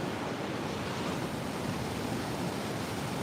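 Ocean waves on a lonely Oregon beach: a constant, even roar of surf mixed with wind buffeting the microphone, fairly faint and unbroken, with no voices.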